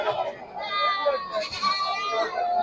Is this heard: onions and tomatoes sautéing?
no